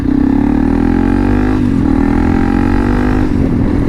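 A loud motorcycle cruising at about 30 mph in fourth gear on back roads, with a steady engine drone, a slight dip and recovery in pitch, and wind rumble, with no voices.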